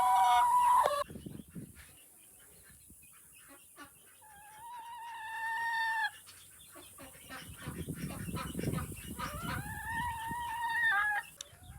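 Stray chickens on a farm give loud drawn-out honking calls in two separate bursts, with softer clucks, rustling and background farmyard noise in between.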